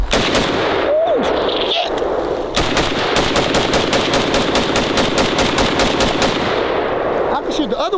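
Barrett MRAD rifle fired at a shooting range, a rapid string of sharp, loud, closely spaced reports; a man briefly exclaims at the start.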